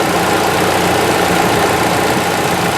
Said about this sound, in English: Again, the engine is running, and you don't want to lose this.